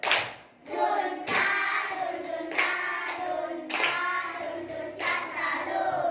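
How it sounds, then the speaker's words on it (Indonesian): A class gives group 1 a salute clap after their presentation: patterned group clapping in loud bursts that repeat roughly every second, close and energetic. "untuk kelompok 1, beri tepuk salut"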